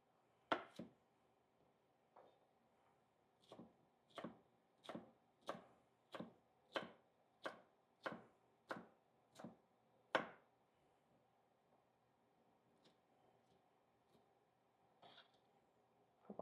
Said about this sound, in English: So we'll go ahead and chop this up.